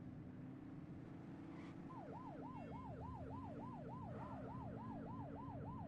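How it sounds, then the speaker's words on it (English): A wailing police siren at a steady rhythmic yelp, heard faint and distant over a constant low engine hum from a vehicle, with no talking. "You're only meant to use the siren in emergencies."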